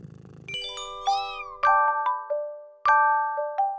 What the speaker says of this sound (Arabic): القطة جميلة جدا